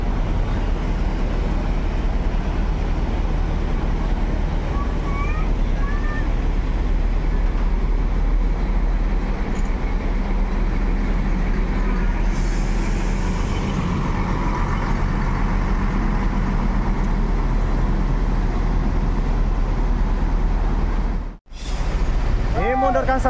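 A Sumatra-bound intercity bus pulls out of a depot on its way to Ranah Minang, its engine rumbling deep and loud for a long stretch with voices talking over it.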